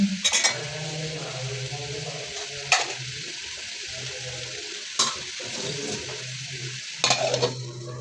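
Tomatoes for a tomato and egg fry being stirred in a hot pan, a soft sizzle broken by several sharp metallic clanks of the spoon against the pan at irregular intervals, no speech.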